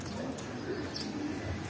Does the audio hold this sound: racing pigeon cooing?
yes